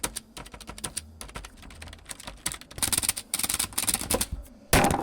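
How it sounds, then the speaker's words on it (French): Typing on a cheap, poor-quality computer keyboard in a boarding school dorm room: irregular, close clicking keystrokes in quick bursts that grow louder and denser toward the end, with no talking. "Il est très nul ce clavier."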